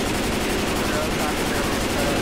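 Rapid, continuous gunfire in a zombie shooter video game, dense and loud with a steady automatic rhythm filling the whole stretch; a player's voice is faintly mixed in.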